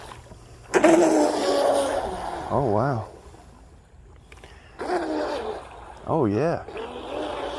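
A Deltaforce 35 plastic RC boat runs on water, its motor whining in rising and falling bursts as it passes, with excited voices exclaiming nearby between the runs.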